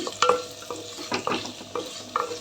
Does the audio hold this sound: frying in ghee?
yes